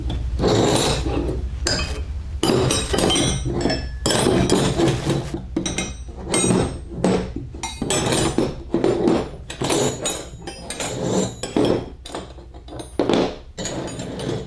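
Metal Durochrome wrenches and sockets, including 16 mm and 10 mm pieces, clink and clatter against each other while being unboxed, a loud, dense run of close metallic knocks and rattles with brief pauses.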